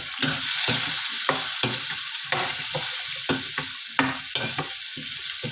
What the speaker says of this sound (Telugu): మంచిగా వేపుకున్న తర్వాత దాంట్లోనే నేను పసుపు కూడా వేసుకుంటున్నాను.